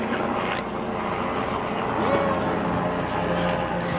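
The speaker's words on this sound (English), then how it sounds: "Helicopter going over." A helicopter passes overhead outdoors, a faint engine drone lying low under the scene for the whole moment, with a brief tonal swell near the middle.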